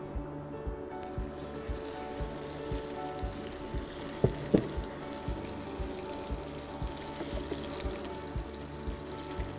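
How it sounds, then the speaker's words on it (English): Fish sears in hot olive oil over medium heat, a steady close sizzle and crackle with a few sharper pops partway through, no voices over it. "So this is the time to sear the fish"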